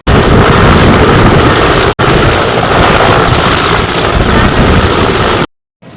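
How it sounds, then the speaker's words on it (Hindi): A helicopter arrives for a flood rescue in Vidisha, its rotor roar loud, close and continuous, broken by a brief dropout near two seconds before cutting off abruptly. "बाढ़ में फंसे लोगों की मदद के लिए हेलीकॉप्टर पहुंचा"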